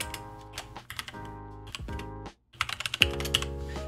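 Code is typed on a computer keyboard in quick irregular bursts of close, crisp key clicks, with a brief pause before a faster flurry of keystrokes.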